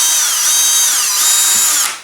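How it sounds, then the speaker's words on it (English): A power drill bores holes through the nose cone of a LOC Precision Patriot Missile 5.5-inch model rocket, using a bit matched to a carbon rod. The motor gives a loud, close, steady whine for about two seconds, then winds down and stops. "So what I'm going to do here is just drill several holes"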